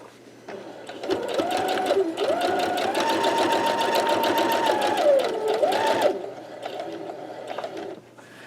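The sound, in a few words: sewing machine stitching quilt block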